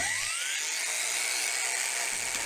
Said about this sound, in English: Then using my grinder, I cut down the star knob to the required length.